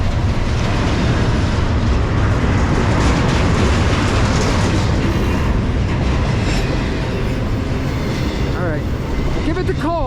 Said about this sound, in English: This train should be pretty short.